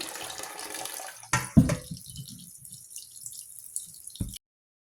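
Water runs from a tap into a pot while pieces of meat are washed, giving an uneven splashing and trickling with a louder burst partway through before it stops suddenly.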